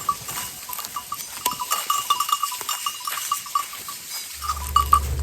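A flock of sheep mixed with goats on a rural pasture, with repeated nearby bleats, faint bell clinks and a low rumble that comes in near the end.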